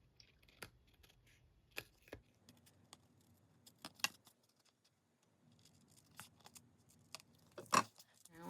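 Scissors trim overhanging paper from index cards in short, scattered cuts, quiet and close, with small rustles and pauses between the snips.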